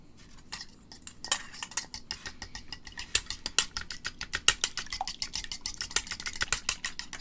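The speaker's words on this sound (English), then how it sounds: "Mix this into the dough." Milk being mixed into soul cake dough with a utensil against a bowl, giving a steady run of quick, close scraping and clinking strokes that grow busier and louder as the stirring goes on, with no voices.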